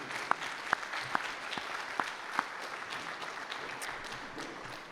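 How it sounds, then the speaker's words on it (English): A crowd at an athletic hall of fame dinner applauds the catering staff, steady far-off clapping from many hands with a few sharp, louder claps standing out near the start. "Let's give them a round of applause."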